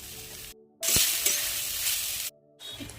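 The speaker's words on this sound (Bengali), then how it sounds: "তো আমার আলু আর পেঁয়াজটা ভাজা ভাজা হয়ে গেছে। এখন আমি জিরাটা দিয়ে দিচ্ছি।" Cumin seeds dropped into hot oil with frying potatoes and onions, bursting into a loud, steady sizzle for about a second and a half, with quieter frying crackle before and after.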